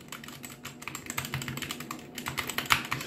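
Steady typing on a budget, unmodified 60% mechanical keyboard, a close run of crisp clacky keystrokes in an uneven rhythm with a few louder presses near the end, heard alone without talk.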